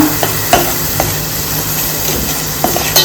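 Chili powder stirred and sautéing in a hot pan for a pomfret fish curry, a steady close sizzle broken by a few sharp scraping stirs of a spoon against the pan.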